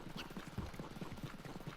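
Horse hooves clip-clop in a quick galloping rhythm in the video game Red Dead Redemption 2, sped up and quiet, with a steady run of soft, repeated hoof thuds.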